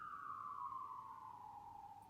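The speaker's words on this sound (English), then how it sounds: "excuse me, with the sirens coming through" A single siren wail from a passing emergency vehicle slowly falls in pitch, distant and faint against a quiet background, with no one talking.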